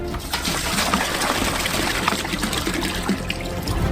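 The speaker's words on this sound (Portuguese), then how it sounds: "Pegamos 3 garrafões de água e uma panela. Abrimos a água" Water from large jugs pours steadily and splashes into a cooking pot, a continuous rushing, gurgling flow close by with no voices.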